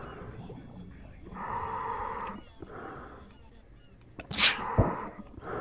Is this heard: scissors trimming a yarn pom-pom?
no